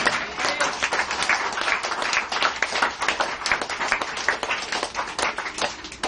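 A church congregation applauds steadily, with dense overlapping claps that stay loud and close throughout.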